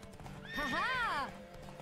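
Horse in The Witcher 3 video game giving a loud, close whinny that rises and falls over about a second, with hoof clip-clop and a voice speaking faintly underneath.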